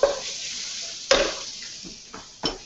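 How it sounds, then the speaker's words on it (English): Minced garlic sizzles in red palm oil in a saucepan for a Malaysian satay peanut sauce: a few sharp hissing bursts that quickly fade, close and fairly quiet, with no talking. "And what you want to add to this is some minced garlic."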